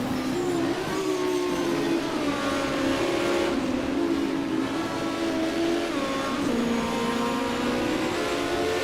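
An Opel Kadett GTE race car climbs a mountain hill-climb course at St. Ursanne Les Rangiers. The engine note is continuous and moderately distant, with rising and falling pitch through the gear changes and no talk over it.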